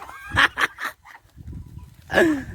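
Newly bought ducks give a few loud, bursting quacks close by, then quiet low shuffling before one more harsh squawk near the end.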